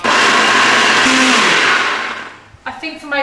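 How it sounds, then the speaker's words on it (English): An old, worn-out blender whirs loudly while blending a smoothie, a dense close roar that winds down near the end before a voice speaks. "This is probably the last blend of its life"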